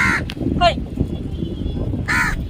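Harsh crow caws ring out near the start and again at the end, with a chirpy call between, over a steady rumbling background.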